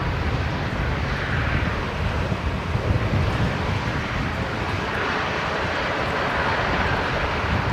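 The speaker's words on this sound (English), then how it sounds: "Bit rocky there on the touchdown with the crosswind." An airliner arriving from Melbourne touches down in a crosswind at Brisbane Airport, a loud sustained engine roar with rumbling low end and wind buffeting the microphone throughout.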